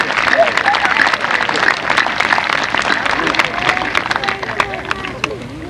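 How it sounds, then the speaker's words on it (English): Outdoor applause at a 1994 middle school wing groundbreaking ceremony, a moderate crowd clapping in scattered, uneven claps mixed with chatter and babble, fairly loud and close throughout. "How about a nice round of applause for these folks as well."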